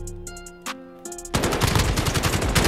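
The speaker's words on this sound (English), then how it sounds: "I thought I got shot at right there" Gunfire in the Call of Duty Modern Warfare video game: a few faint tonal interface blips, then a loud sustained automatic burst of rapid shots, close and dense to the end.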